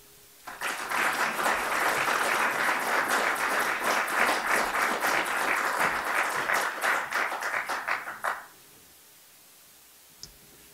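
An audience in a lecture hall claps steadily for about eight seconds to welcome a visiting journalism professor, a dense even applause that stops abruptly, followed by near silence and one faint click.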